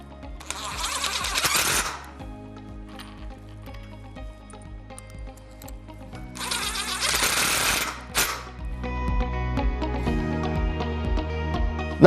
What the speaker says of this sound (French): On prend notre base, une vis, notre perceuse avec notre douille hexagonale 3/8